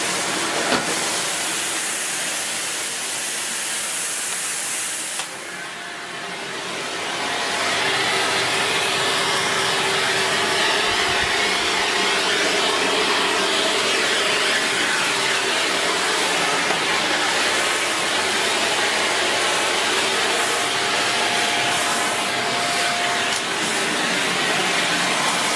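A Shark Powered Lift Away NV681UKT vacuum cleaner runs with its hose attached, cleaning up. A steady, loud airy hiss and motor roar change note after a few seconds, then continue evenly and close.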